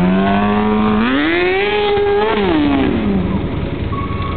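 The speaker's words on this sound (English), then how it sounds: "Tony heating up his tire down there." A stunt motorcycle's engine revs loud and close as the rider heats up the rear tire, its pitch climbing, holding, then dropping back in one sustained surge.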